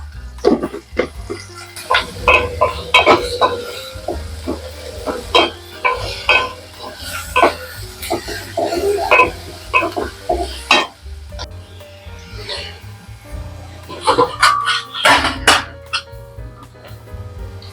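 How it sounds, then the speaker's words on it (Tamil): Onions sizzle in a pan with a pinch of salt while a spoon stirs and scrapes them repeatedly, close and busy, with a low steady hum underneath, while cooking a Vanjaram fish fry. "வெங்காயம் நல்லா குக் ஆகட்டும். கொஞ்சம் உப்பு போட்டுறேன், அப்போ ஈவனாக குக் ஆகும் வெங்காயம்."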